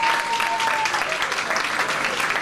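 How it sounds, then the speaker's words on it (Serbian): Audience at a stand-up comedy show in a pub applauding the comedian, steady close clapping from a smallish crowd through the whole stretch. "jedan aplauz za čovjeka"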